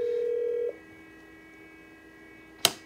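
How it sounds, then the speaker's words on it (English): A VoIP desk phone on a 3CX system rings at a dialed extension: a steady electronic tone for under a second, then a quiet gap and a sharp click, with no talking. "So if I were to dial 380, his extension should ring."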